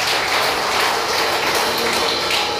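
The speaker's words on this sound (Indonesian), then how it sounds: "Tepuk tangan buat Tuhan." A church congregation claps together in a steady, dense burst of applause that fills the room for a few seconds.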